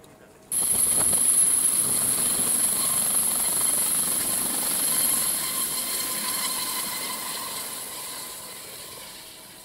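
A loud, steady helicopter drone arriving at Imphal begins abruptly and holds for several seconds, its rotor roar gradually fading as it moves away.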